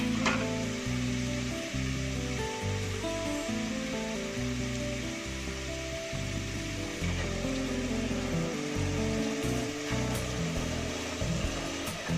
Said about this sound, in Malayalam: ഇനി നന്നായിട്ട് ഇതൊന്ന് ഫ്രൈ ആയിട്ട് ഇതിൻ്റെ പച്ചമണം മാറി വരുന്നിടം വരെ നന്നായിട്ടൊന്ന് ഫ്രൈ ചെയ്യണം